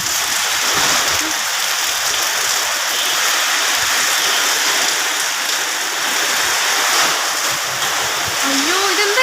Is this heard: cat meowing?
no